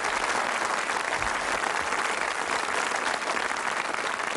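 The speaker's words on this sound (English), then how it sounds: "Give a nice round of applause." A studio audience at a television game show gives a loud, sustained round of applause, dense and even clapping with no talk over it.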